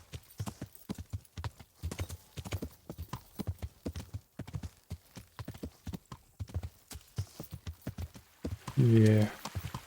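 Steady, close hoofbeats of a horse clip-clopping near a river crossing in the game Kingdom Come Deliverance, keeping an even trot rhythm, with a brief whinny-like tonal burst near the end.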